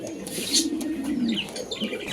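Pigeons in a cage, Lahori, Bombay and American breeds, give soft nearby cooing in a few rolling phrases, with faint chirps and rustling behind.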